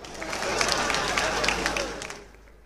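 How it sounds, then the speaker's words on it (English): Crowd applause at the Oba of Benin coronation, a brief swell of many hands clapping that rises and then fades away over a couple of seconds. "a round of applause for him."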